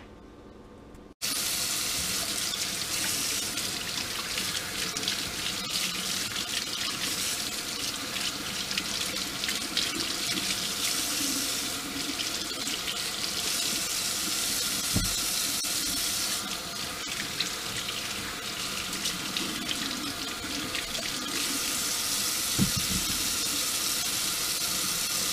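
A kitchen tap runs steadily while cucumbers are washed under it for pickling. The close, continuous splashing of water into a sink carries on throughout, with a couple of soft thumps and no talk.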